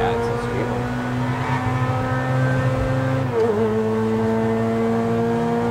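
A car engine from Grand Theft Auto V hums at steady, sustained revs, with a brief dip in pitch partway through. It stays loud and close.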